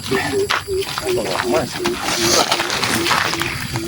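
During a ritual, a man imitates a tiger with loud, rhythmic guttural growls repeated roughly every few tenths of a second, while other people talk in a noisy, crowded room.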